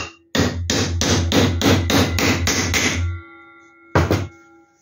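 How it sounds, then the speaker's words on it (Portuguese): Nine quick, loud hammer blows drive a small nail into very hard wood in a rapid even rhythm, then a pause and one final strike, all close up with no talking. "como a madeira é muito dura, eu resolvi pregar mesmo, tá? Botar um preguinho"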